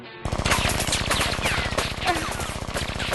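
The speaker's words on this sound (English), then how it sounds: "Who's shooting at us?" Rapid automatic gunfire from an anime action scene, a loud continuous burst of closely spaced shots that kicks in abruptly and rattles on without pause.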